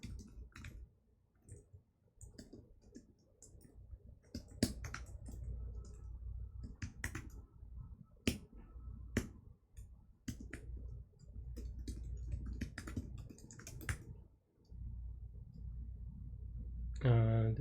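Code is typed on a computer keyboard in irregular bursts of close, crisp key clicks, with occasional sharper clacks and a low background hum throughout.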